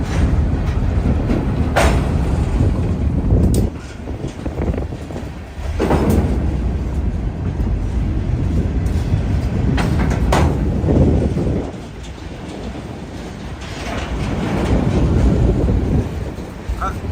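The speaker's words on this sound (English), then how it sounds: "there's another train on the other side too now" A train rumbles and clatters past nearby in the Distillery District of Lexington, Kentucky, with gusts of wind buffeting the microphone and the roar swelling and easing.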